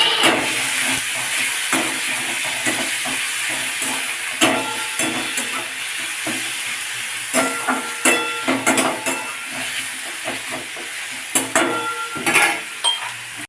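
Onion paste, garlic paste and capsicum stirred and frying in a pan for a soybean dish: a steady bright hiss of sizzling, broken by frequent scraping and clinking stirs that grow busier toward the end.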